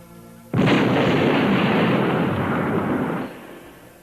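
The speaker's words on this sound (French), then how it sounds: "tué par l'explosion d'une bombe dissimulée dans sa guérite" A bomb hidden in a guard booth goes off in a film scene: a sudden, loud blast that roars steadily for about three seconds before dying away, with no voices.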